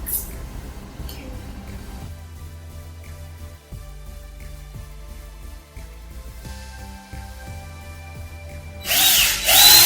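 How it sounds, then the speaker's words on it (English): A power drill bores holes through an acrylic panel for a neon LED sign, its steady motor whine running close and loud for most of the span before a harsher burst of grinding near the end. "I've drilled 2 holes"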